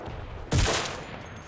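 Gunfire in the video game Enlisted, Pacific War campaign: after a half-second lull comes a single loud, sharp burst of shots that decays over about half a second into a lingering echoing tail, with no talking.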